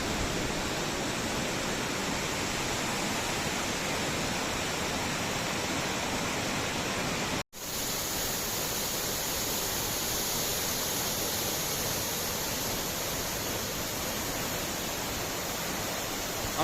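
Changey Waterfall in Kolakham, Kalimpong roars as a loud, constant broadband rush of falling water, steady throughout apart from a momentary cut partway.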